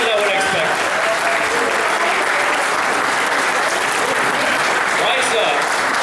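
Loud sustained audience applause with people on their feet after a speech, a thick continuous roar of clapping with some cheering voices mixed in, unbroken for the full length.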